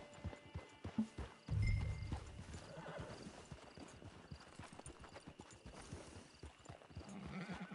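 Hooves of a horse in Red Dead Redemption 2 Online clip-clop steadily at a walking pace while the horse lets out a short whinny, with faint ambient background throughout.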